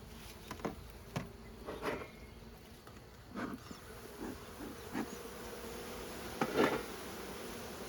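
Honey bees buzz around an open beehive during winter preparation, a steady hum with a few bees passing close to the microphone and light taps or knocks scattered through it.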